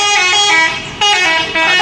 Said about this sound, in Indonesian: Ada bus ANS lagi yang akan menuju kota Jakarta dan sekitarnya.